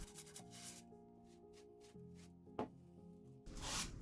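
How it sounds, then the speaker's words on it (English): By hand, someone sands the corners of a red abstract resin art piece, producing quiet, rhythmic scratchy strokes with a brief knock partway through and a louder rasping pass at the end. "I'm just sanding the corners."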